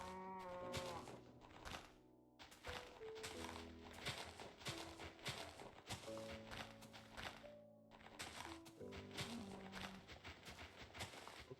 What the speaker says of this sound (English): Look at the cow.